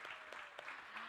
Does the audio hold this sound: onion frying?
no